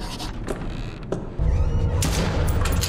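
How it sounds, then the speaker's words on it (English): Gunfire in a video game during a cutscene, with a few sharp shots and then a dense, booming burst of shots. "It's just funny to shoot during the cutscene."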